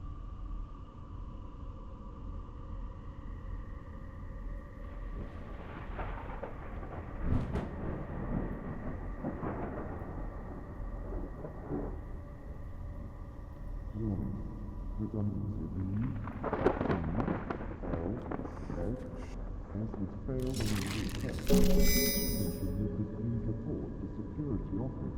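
A lightning storm rumbles in the video game Stasis, low thunder rolling in and out with sharper cracks near the end, beneath intermittent speech.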